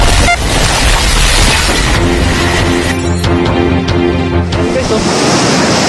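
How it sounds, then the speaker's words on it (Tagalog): Rough sea surf crashes onto the shore in a loud, continuous, close wash of noise, with a voice briefly talking over it partway through. "Galit ang dagat guys."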